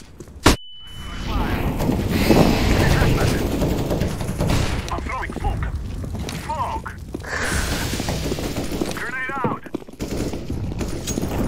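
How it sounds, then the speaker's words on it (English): A flashbang grenade goes off in Counter-Strike: Global Offensive: a sharp burst followed by a brief high ringing tone, then steady gunfire and game noise with voices talking over it. "I'm throwing a flashbang."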